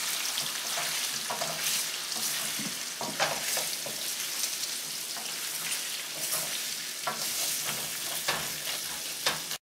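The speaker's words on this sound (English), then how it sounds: "Fry them." Potatoes fry in canola oil with a steady close sizzle and crackle, broken by occasional stirring scrapes, with no voices throughout.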